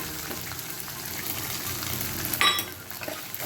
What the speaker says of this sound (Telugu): ఇప్పుడు కొద్ది కరేపాకు వేసుకున్నాం